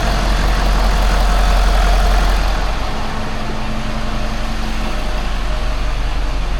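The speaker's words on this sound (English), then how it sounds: "we're gonna start this engine" A Ford 6.7 diesel engine idling steadily with its exhaust refitted, a continuous low heavy drone that stays loud and even throughout, with no voices.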